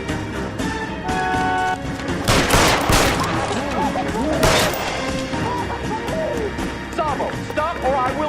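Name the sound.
gunfire in the video game L.A. Noire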